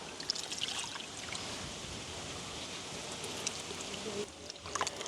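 Tamarind being squeezed and dissolved by hand in a bowl of water, a continuous close wet sloshing and trickling that briefly dips near the end before resuming.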